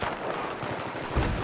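Sustained gunfire in the video game Battlefield 3, loud and dense, with rapid overlapping shots and a heavier burst near the end, and no talking.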